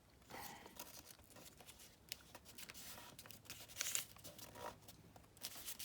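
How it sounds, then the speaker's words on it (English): Scissors cutting a sliver off an old paper journal page, with close, quiet rustling and snipping, scattered crinkles and a few sharper crisp cuts, no voices. "I'm going to cut a sliver of that off so that this has more space to fold up"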